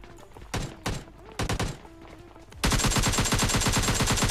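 Video game gunfire while knocking down an enemy: a few short bursts of shots at first, then a sustained, loud rapid-fire volley that runs to the end without pause.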